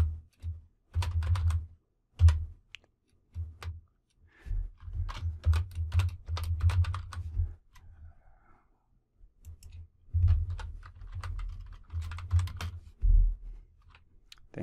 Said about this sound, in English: I can go ahead and type what I want inside of here.